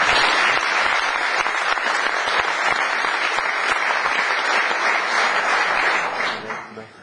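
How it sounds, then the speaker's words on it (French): Loud, dense audience applause at an agricultural fair meeting, sustained for several seconds before fading toward the end. "il faut vraiment applaudir à tous ces gens-là"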